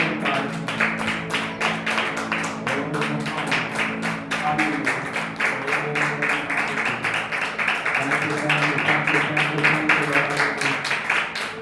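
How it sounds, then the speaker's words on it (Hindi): A church congregation claps hands in a steady, rhythmic beat during worship, the sharp claps repeating evenly throughout over music and voices. "ताली बजा के प्रभु के नाम में"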